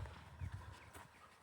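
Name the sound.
horses making sounds on a morning walk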